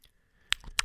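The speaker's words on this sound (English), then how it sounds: "Substitute chewing." Two or three sharp, crisp chewing crunches close to the mic, separated by short quiet gaps, in a brief moment with no talking.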